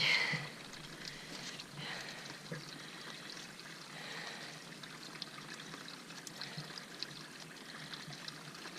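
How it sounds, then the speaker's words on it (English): Creek water beside a waterfall on Tasmania's Overland Track pours and trickles steadily as bottles are filled, a close, continuous splashing flow with soft gurgles. "So we've just come to our first waterfall, and we're filling up some water."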